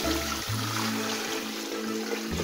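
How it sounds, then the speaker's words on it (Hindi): Water pours steadily into a cooking pot for Hunza-style mutton soup (chapsy dawdoo), a continuous close trickle and splash with a low resonant tone that shifts as the pot fills. "अब मैं इसमें डालती हूँ पानी ताकि इसकी यखनी तैयार हो जाए"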